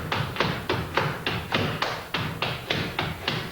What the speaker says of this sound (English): Another variation is to do that third slap behind the body